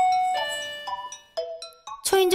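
A two-tone electronic doorbell chimes in a home where a timid, under-socialised cat lives, ringing out in a few clear, bright, ringing notes that end in a louder final chime.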